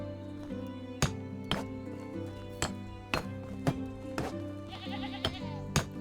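Goats bleat in the medieval farming game Medieval Dynasty. Harmonic calls sit over a steady ambient bed, broken by several sharp clinking knocks spaced through the scene.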